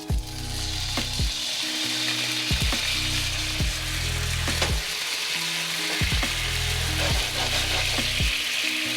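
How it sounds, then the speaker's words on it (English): Vegan hearts of palm unagi fries in a thickening sauce over medium heat, with a continuous bubbling sizzle over a low, rhythmically pulsing hum. "So we're cooking this on medium heat until you see that the sauce reduces and gets nice and thick."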